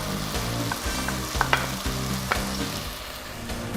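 Carrots and leek fry in a pan with a dense, steady sizzle, close and loud, broken by a few sharp utensil clicks as the vegetables are stirred.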